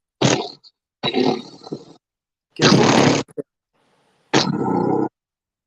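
A voice imitates a pulsing vibration in several buzzy bursts separated by pauses, with a brief spoken word among them.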